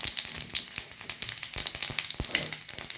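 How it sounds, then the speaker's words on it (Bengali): Panch phoron spices fry in hot oil for methi aloo dum, giving a close, continuous crackling sizzle with rapid irregular pops throughout. "এবার আমি পাঁচফোড়নটা দিয়ে দিচ্ছি, যে পাঁচফোড়ন নিয়েছি, পাঁচফোড়নটা দিয়ে দিচ্ছি।"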